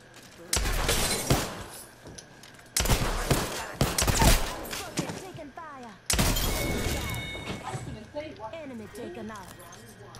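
Rapid bursts of automatic gunfire from the Apex Legends battle royale video game, loud and close, in three dense barrages with crackling impacts and a player talking over the action.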